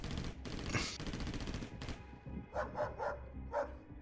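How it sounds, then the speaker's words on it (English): Distant gunshots and a dog's barks echo through a dark, tense setting, dense bursts of noise in the first half giving way to several short, spaced barks near the end. "Distant shots echo. The occasional bark of a dog."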